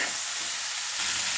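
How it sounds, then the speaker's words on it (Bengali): Vegetables, green peas and paneer sizzle steadily as they fry with spices in a pan for veg biryani, a continuous close hiss with light stirring and no voices. "এই মশলার সাথে সবজিটা আর পনিরটা ভালো করে কষে নিতে হবে।"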